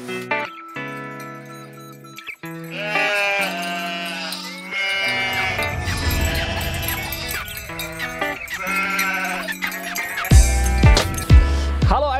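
Sheep bleating on a Swiss alpine pasture, several loud close wavering calls in a row with brief gaps, some clinking between them and heavy thumps near the end.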